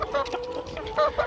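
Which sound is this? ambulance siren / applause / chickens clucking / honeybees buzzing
chickens clucking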